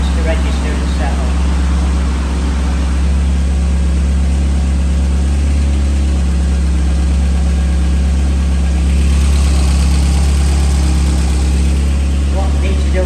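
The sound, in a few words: 1983 Porsche 924 engine idling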